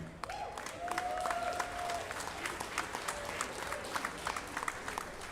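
An arena crowd applauds to honor members of the U.S. Armed Forces before a Team Combat League match, a steady wash of clapping with some cheers, moderately distant and sustained, with a brief announcer-like tone early on.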